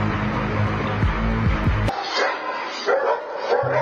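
A dog barks several times in quick yips and woofs, close and loud, then gives a few softer whimpering yelps.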